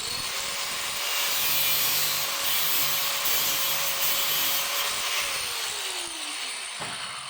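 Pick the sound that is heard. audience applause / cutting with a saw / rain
cutting with a saw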